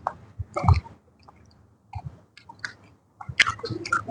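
Someone eating ice cream chews close to the mic in short bursts, wet crunchy bites and soft squishy mouth sounds separated by brief pauses, with no speech.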